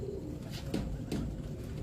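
Pigeon cooing, likely one of the long-legged show breeds, a soft, muffled coo with a couple of short swelling notes over a steady low background murmur.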